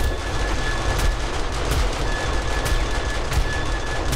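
Automatic gun turrets firing during a massive zombie horde night in 7 Days to Die: a loud, dense, unbroken clatter of gunfire with sharper cracks punching through now and then. No voices.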